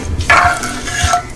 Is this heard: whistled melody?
no